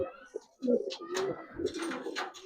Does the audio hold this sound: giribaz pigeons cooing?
yes